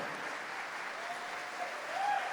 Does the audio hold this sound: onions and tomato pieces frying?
no